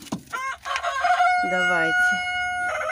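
Chickens in a cool stone-walled coop with a cemented floor cluck and squawk close by, a drawn-out crowing-like call among rapid clucks, while someone speaks briefly at the start.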